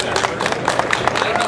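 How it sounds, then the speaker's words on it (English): A conference audience at a psychedelic science event breaks into steady, dense applause to welcome a speaker, a continuous wash of clapping close by and filling the room. "So give him a round of applause."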